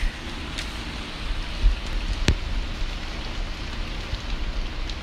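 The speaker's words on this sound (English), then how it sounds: "It is raining." Steady rain hissing on a surface, a constant broadband wash with a couple of brief louder taps, no voices.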